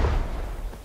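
A grenade blast in Rising Storm 2, a short, heavy low boom that fades quickly within under a second, close and alone without talk.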